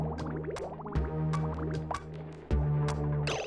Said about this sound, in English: This is pumping the water in.